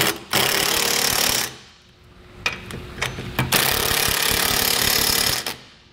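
A 3/4 inch socket on a power tool tightening bolts underneath a vehicle while a trailer hitch receiver is fitted, two long loud rattling bursts with a few short pulses between them, no talking.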